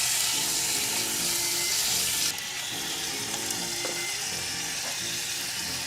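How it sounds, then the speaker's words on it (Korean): Pork neck, about 300 g, stir-frying in cooking oil in a pan over medium heat: a steady hissing sizzle with stirring noises that drops slightly in level partway through, with no voices. "달달 볶아주세요"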